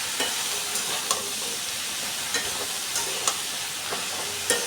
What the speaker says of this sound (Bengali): লবণ দিয়ে কাঁঠালটাকে ভেজে নিব।